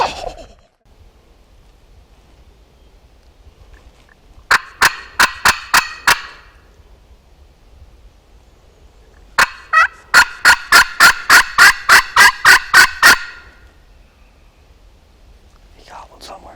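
Wild turkeys gobbling in Missouri hardwoods, two loud rattling gobble bursts in quick pulses, the second longer, with quiet whispering between them.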